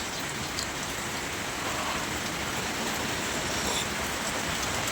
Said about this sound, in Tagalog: Ay, lumakas na naman yung ulan mga kapagaw.